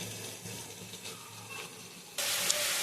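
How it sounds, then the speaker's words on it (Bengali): Spices with chopped tomato, turmeric, salt and Kashmiri chilli powder frying in oil, a soft steady sizzle and hiss that jumps louder near the end, with no talk. "ভালো করে কষাবো যতক্ষণ না মশলা থেকে তেল ছাড়ে"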